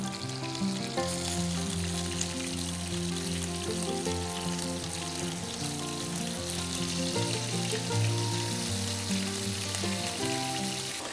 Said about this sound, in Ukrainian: За той час, поки смажаться наші медальйони